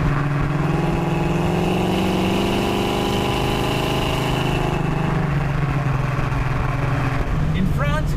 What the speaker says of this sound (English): It's an American car, so it must have a loud V8 engine.